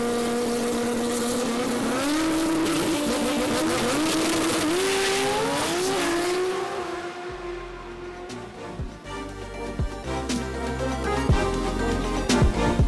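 Ford Barra-powered drag car making over 2,000 horsepower revving hard, a loud high-pitched engine note climbing in stepped surges before dropping away into rattling, uneven idle and bursts near the end.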